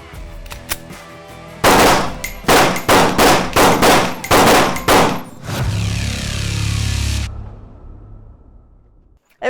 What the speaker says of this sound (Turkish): Hocam şimdi şu şampiyon silahı bir seri atışta görelim